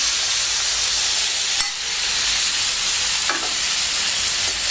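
Potatoes stirred and frying in hot oil, a steady close hiss of sizzling broken by a few sharp scrapes and clinks of the spoon against the pan.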